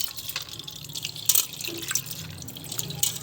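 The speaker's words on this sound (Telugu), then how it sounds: "అలా ఇలా కడిగాక శుభ్రంగా వడబోసే దాంట్లో వడబోసుకుని" Freshly washed lentils drain in a strainer, water dripping and trickling steadily through the mesh in quick irregular drops, close and fairly quiet with no talking.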